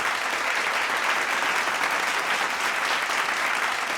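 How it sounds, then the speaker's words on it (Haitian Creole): A large audience at a televised talent show finale claps steadily and continuously, a dense, even wash of applause that stays at the same loud level throughout. "ils méritent applaudissements"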